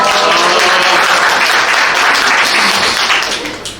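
Loud, sustained applause from an audience at a youth talk show in Korea, dense clapping that holds steady for several seconds before tapering off slightly at the end.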